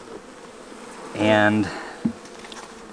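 A honey bee from an opened hive buzzes loudly and close for about half a second during a frame inspection. Quieter hive hum sits around it, and a person speaks briefly.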